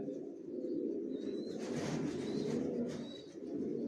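Johnson-line long-distance racing pigeons coo in a loft as a continuous low, warbling chorus. A burst of rustling or wing noise rises midway, and a few faint higher chirps sound over it.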